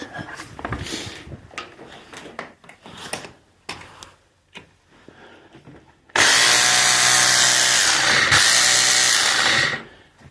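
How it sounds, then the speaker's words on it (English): Scattered clatter and tool handling, then an SDS hammer drill for concrete hammers loudly and continuously for about three seconds before stopping. "It's a construction drill to drill in concrete,"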